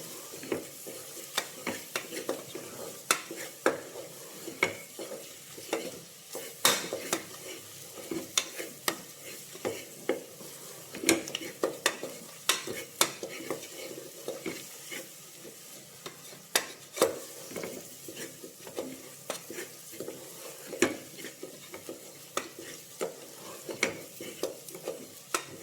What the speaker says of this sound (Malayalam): ആ പൊടികളൊക്കെ ഒന്ന് മൂത്ത് വരണം.